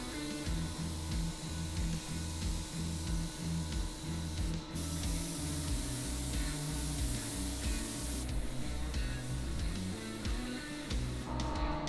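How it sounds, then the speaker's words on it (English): A spray gun hisses steadily while painting a custom Ford Bronco, with loud continuous spraying over a pulsing mechanical hum and brief breaks in the spray. "We sprayed, we blended some of the edges and stuff like that."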